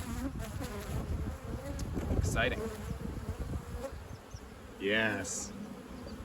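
Honey bees buzz around an open hive frame of capped brood, a close, continuous droning swarm with individual bees passing near, while people talk briefly over it.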